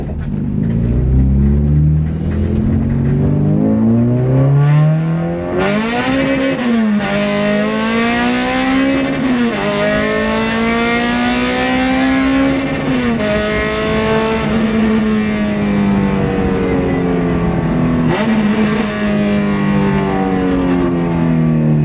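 An Acura Integra with a K20/K24 engine swap on RT660 tires revs hard and loud throughout, its pitch climbing through repeated pulls with short dips at each gear change, close and sustained with no talk.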